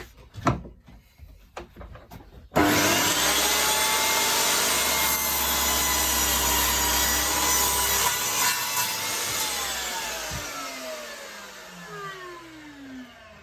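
A DeWalt DWS773 sliding compound mitre saw cuts plywood at a 45-degree angle: a few light clicks, then the motor roars up loudly as the blade bites. The whine fades as the blade spins down.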